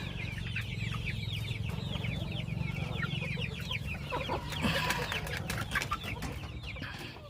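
Hens on a poultry farm cluck steadily, with several birds calling over one another in a continuous close chorus and a low barnyard hum beneath them.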